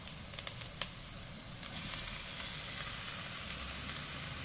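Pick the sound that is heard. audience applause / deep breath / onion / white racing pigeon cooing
onion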